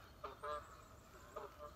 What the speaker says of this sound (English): the geese fly off there in the distance